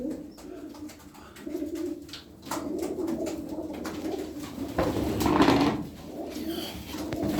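Soft cooing of Erzurum white pigeons amid a busy loft, with fluttering and shuffling noises around the birds.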